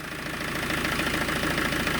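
The engine of a Citroen Dispatch / Peugeot Expert / Fiat Scudo van being converted to a micro camper idles with no exhaust back box fitted, a steady, close, raspy drone with a fast, even pulsing throb.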